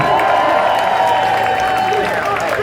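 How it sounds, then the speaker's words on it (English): Crowd clapping and cheering at an outdoor anti-vaccination rally, loud and close, with shouting and voices mixed into the continuous applause. "Give a round of applause for Andy."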